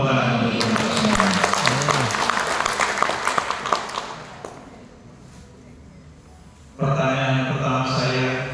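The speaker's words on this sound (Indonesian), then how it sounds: "Tepuk tangan untuk kita semua." An indoor audience at an Indonesian literacy and education event breaks into sustained applause for several seconds, which fades out before a speaker's voice returns.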